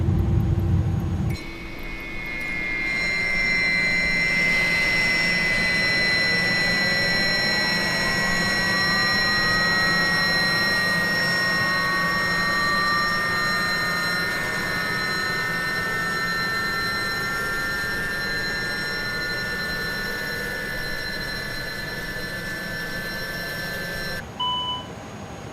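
Jet engines of a Lufthansa Airbus A300-600R shutting down in a flight simulator, the whining turbine tones sliding slowly downward for about twenty seconds over a loud steady rumble before cutting off abruptly.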